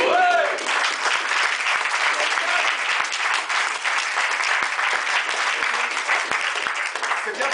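Sustained applause from a live comedy-club audience, dense and steady for the whole stretch, loud and close, with no voice rising above it.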